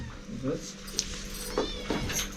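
A cat meows a few times close by, short tonal cries over people talking in a room with background clatter.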